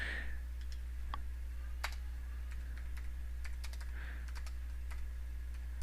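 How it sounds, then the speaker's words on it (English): Steady typing on a computer keyboard, with scattered key clicks and taps at close range over a low, constant hum, with no talk. "I just typed in easy to edit"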